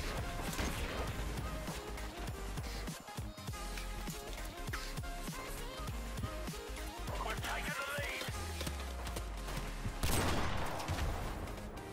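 Dense, continuous automatic gunfire and crashing impacts from a mounted turret in Call of Duty Modern Warfare Remastered, loud and sustained throughout with sharp bursts over a busy battle mix.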